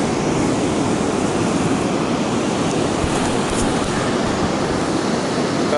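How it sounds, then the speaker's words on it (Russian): Chicken fries in a pan with a steady, dense, close sizzle that holds at an even level from start to finish, with no voices. "Катюша, пока жарится и шипит наша курица"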